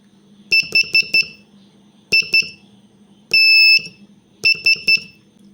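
Morse code tones for ham radio spell out a four-letter word in clear, loud beeps: quick groups of short dits separated by pauses, with one long dah in the middle, all sounding alone against a quiet background.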